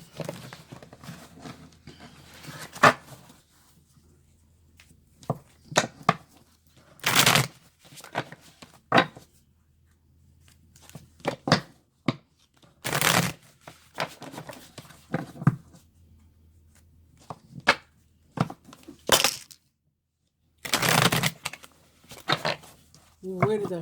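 Bursts of tarot card shuffling come in repeated riffles spread across the clip, each a sharp flurry of papery slaps separated by quieter pauses.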